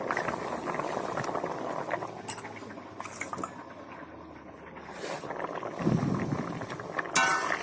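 Fish curry with taro and potatoes simmering in a pot, a soft bubbling boil with occasional utensil clinks and scrapes against the pan, moderately quiet and close.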